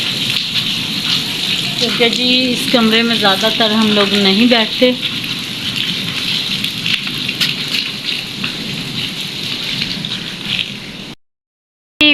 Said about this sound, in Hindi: बारिश बहुत ज़्यादा तेज़ आ रही है